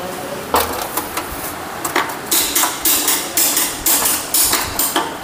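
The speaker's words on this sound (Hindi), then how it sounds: "तो दोस्तों इसमें जो हथौड़ी से आप आराम से इस तरीके से ठोकिए।" A hammer strikes a Hero Passion Pro 110 BS6 motorcycle engine part in a series of sharp metallic blows, close and loud, roughly a dozen hits in a steady irregular rhythm with workshop noise behind.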